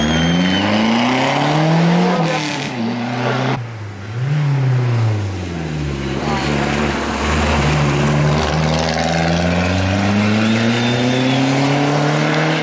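A Lancia Delta rally car pulls away at a rally stage start in Gargano, the engine revving hard through rising gear changes, loud and close, then fading as it speeds off.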